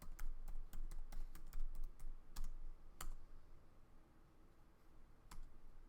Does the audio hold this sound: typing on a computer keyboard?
yes